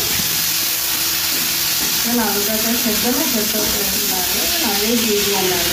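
Potatoes and tomato fry in mustard oil with a loud, constant sizzling hiss. Midway a voice talks over the frying.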